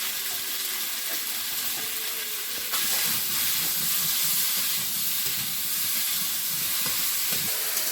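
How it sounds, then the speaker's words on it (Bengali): Okra frying in a pan with potatoes, turmeric and salt, a steady hiss and crackle of oil with occasional stirring scrapes, loudening slightly partway through. "ঢেঁড়সটা মাঝে মাঝে একটু করে ভাজতে হবে আর এইভাবে ভাজতে দিয়ে"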